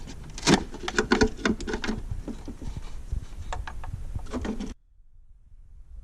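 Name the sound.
twisting bulbs out of Chevrolet Silverado headlight assembly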